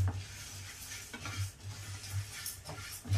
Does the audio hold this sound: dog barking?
no